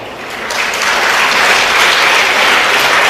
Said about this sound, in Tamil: இதுக்கு கூட கைத்தட்டலாம்.